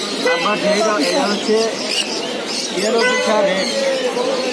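Lovebirds at the Mirpur bird market chatter in a dense, continuous stream of high chirps and squeaks, fairly close, with people talking over them.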